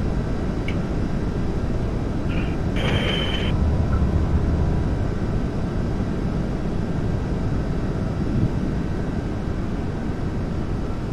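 A Boeing F-18 fighter jet's engine in Flight Simulator X gives a steady, continuous broadband roar that holds at an even level throughout, with a brief brighter tone near the start.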